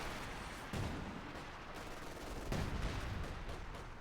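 Artillery shells thud and boom in Company of Heroes 2 battle, with two heavier impacts standing out over a continuous rumble of distant gunfire and explosions.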